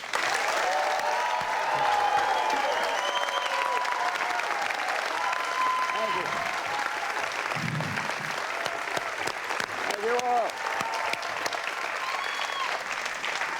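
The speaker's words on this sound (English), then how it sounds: "Everywhere you go, people just stand up and start clapping, right?" Sustained applause from a studio audience welcoming guest Norman Lear to the Rough Draft stage, a dense steady clapping that holds loud for the whole stretch, with scattered cheers and a few voices rising through it.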